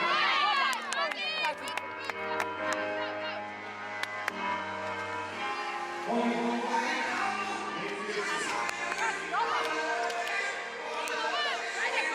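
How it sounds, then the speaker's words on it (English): Arena crowd at a Belgium versus Netherlands World Grand Prix volleyball final cheering and shouting during a Mexican wave, a loud continuous roar with whistles and shrill voices rising and falling throughout. "the crowd in the arena rise to their feet for the Mexican wave"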